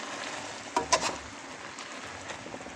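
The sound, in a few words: stirring pancit canton noodles in a pan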